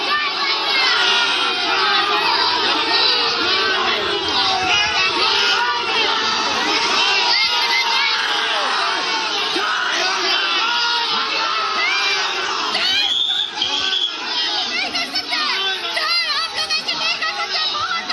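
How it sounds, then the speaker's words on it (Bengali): A dense crowd of protesters shouts and chants slogans at an election-time protest in Basanti, Bengal. Many voices overlap in a loud, continuous din that holds for the whole stretch, with occasional higher yells rising above it. "স্লোগান দেখুন।"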